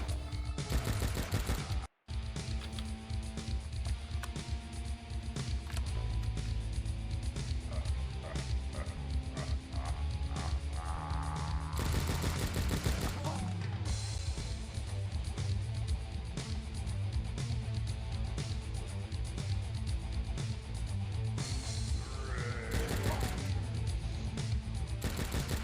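Video game gunfire from a player strafing while shooting: dense, loud, near-continuous shots and clatter run for the whole stretch, with only a brief break early on.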